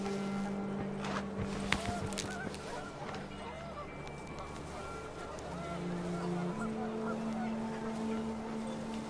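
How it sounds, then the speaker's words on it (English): Panicked geese in the What Remains of Edith Finch game, several honks over windy ambience with a sustained low tone, loud and fairly close. "The wind picked up, and panicked geese appeared and quickly went."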